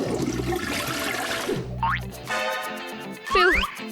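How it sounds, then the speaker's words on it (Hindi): A toilet flushes in an animated comedy scene, a rushing, gurgling swirl of water that fills the first second and a half, followed by cartoonish boing-like sliding tones and watery effects. "क्या टॉयलेट में फ्लश करना इतना मुश्किल है?"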